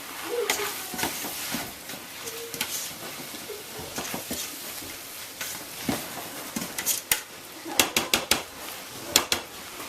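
A ham bone is stirred around in a pot of split pea and ham soup. There is soft sloshing and scraping with scattered clinks against the pot, growing into a few sharper knocks near the end. No one speaks.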